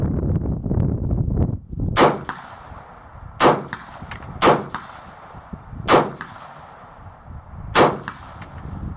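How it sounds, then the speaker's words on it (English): Rifle shots fired at intervals, five sharp cracks each followed by the ringing clang of a steel target being struck at a distance. "I'm gonna go ahead and shoot and see if I can hit the steel target"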